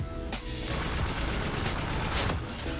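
Dense, sustained gunfire from Call of Duty: Infinite Warfare, a continuous close spray of overlapping shots with a sharp burst at the start and another near the end, loud and unbroken, no voices.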